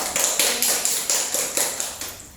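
Applause in a classroom during a chemistry lesson, a short burst of clapping with sharp repeated hand claps at a steady quick rhythm, fairly close and moderately loud, with no talking.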